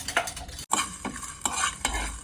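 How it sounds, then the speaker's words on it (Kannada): Spices dry roasting in a pan, stirred with a utensil in repeated scraping, rustling strokes and a faint sizzle. Close and steady, with no talk. "ಇದನ್ನೆಲ್ಲನೂ ಸ್ವಲ್ಪ ಡ್ರೈ ರೋಸ್ಟ್ ಮಾಡ್ಕೊಳ್ಳೋಣ."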